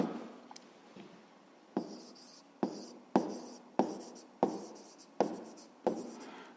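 Pen strokes on paper while a math solution is written out, a series of about eight quick scratching strokes in an even rhythm, close and fairly quiet, with no speech.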